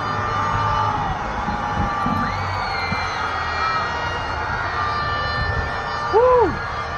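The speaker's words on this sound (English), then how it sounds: "Those screams from whole city. From Buenos Aires, come on." Distant, city-wide roar of a crowd screaming and cheering across Buenos Aires after a Messi goal in the World Cup final, a dense sustained wash of far-off voices with whoops rising through it and a brief louder swell near the end.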